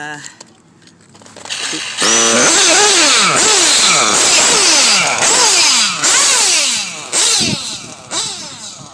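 A Novarossi Elite 5 nitro engine warms up, starting after a brief pause and then revving hard in loud, high-pitched buzzing bursts that rise and fall repeatedly.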